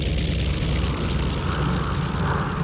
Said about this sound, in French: dans le ciel, ces passionnés assurent le spectacle avec leurs avions de légende, comme le Breguet d'Alphonse Pégout